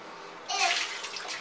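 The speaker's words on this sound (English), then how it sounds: "Pour the water on your head." Water poured from a small bucket into a bathtub, a short splashing gush that follows a quiet moment, close and fairly loud, with a faint child's babble nearby.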